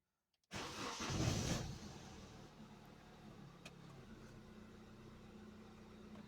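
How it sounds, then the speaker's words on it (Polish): An Opel Astra, just fitted with new valve stem seals, starts with a brief starter whirr and catch, then settles into a smooth, even idle, heard nearby and fairly quiet late at night. "No, maszyna zapaliła. Także chodzi spokojnie. Równo."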